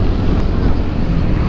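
Strong wind buffets a motorcycle rider on a road, a loud continuous roaring rush of wind noise battering the microphone close up, steady with slight gusting swells throughout.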